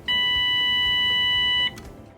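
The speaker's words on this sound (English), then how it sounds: "You will hear a beep." A home sleep study monitor gives a single steady electronic beep, clear and close, lasting about a second and a half before cutting off into quiet room tone.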